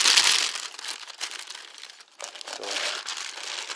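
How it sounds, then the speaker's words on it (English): Crinkly plastic bag being pulled off a Logisys 480W Black Beauty ATX power supply, loud rustling and crackling at first, easing briefly, then picking up again in steady bursts. "So let's just take it out of the plastic real quick."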